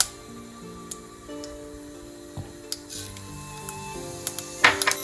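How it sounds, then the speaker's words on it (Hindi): Mustard seeds splutter in hot oil in a pan, giving a soft sizzle with scattered sharp pops and crackles that cluster more densely toward the end. "सबसे पहले राई डाल देंगे। राई के स्प्लटर होते ही हम इसमें जीरा डाल देंगे।"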